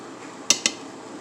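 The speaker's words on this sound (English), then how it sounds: "And I just stir it around to make sure it's all getting cooked good." Pokeweed being stirred in a pot of boiling water, heard as two quick, close metallic clinks of a utensil against the pot over a soft background bubbling.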